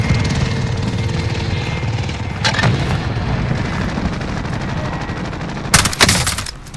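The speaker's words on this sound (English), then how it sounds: "enemy attack chopper incoming" Attack helicopter in the Call of Duty Warzone video game, a constant loud rotor and engine roar with bursts of gunfire and sharp blasts cutting through it.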